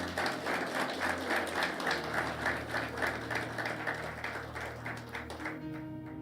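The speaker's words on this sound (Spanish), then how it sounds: "Dele el aplauso al Señor y déselo bien fuerte." A church congregation applauds loudly during a Spanish-language sermon, a dense, steady wash of clapping that runs through the whole stretch with music or organ tones held beneath and fades slightly at the end.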